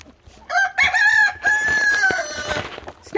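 Chickens cluck and call loudly and close by, with one drawn-out, crowing cry in the middle.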